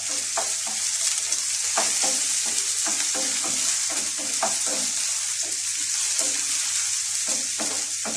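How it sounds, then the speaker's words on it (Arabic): Eggplant and green pepper fry in a pan, sizzling steadily throughout while a utensil stirs and turns them in repeated scraping strokes, close and alone without talk. "هفضل بقى كده اقلب عشان ما يتلسعش من جنب وجنب التاني"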